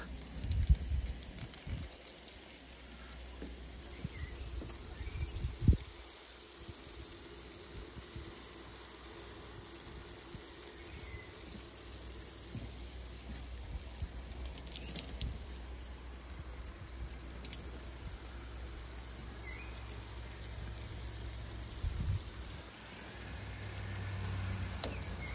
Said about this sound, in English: If we open the valve, it starts flowing.